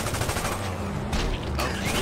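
Rapid gunfire in a video game city event, a dense stream of shots crackling in bursts with brief breaks, loud and close, with faint speech in the background.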